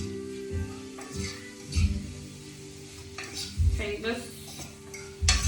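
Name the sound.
shrimp tossed in a pot with garlic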